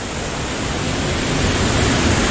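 Lankvoku waterfall in Karbi Anglong, Assam, rushes in a loud, dense, unbroken roar filling the brief moment, with no voices.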